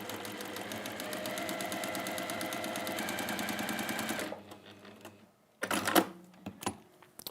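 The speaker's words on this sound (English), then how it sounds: "seam sewn each side of the marked line, so 1/4 of an inch either side of that marked line" A sewing machine stitches quilt seams for half square triangles in a fast, steady mechanical rattle for about four seconds, then stops, followed by a few louder handling clunks and bumps nearby.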